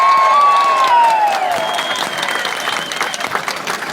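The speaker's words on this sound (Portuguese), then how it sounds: "e pedir uma salva de palmas para ela." Crowd at a street rally on Avenida Paulista for Lula breaks into loud, sustained applause and cheering, with a brief whistle rising above the clapping before the noise slowly thins.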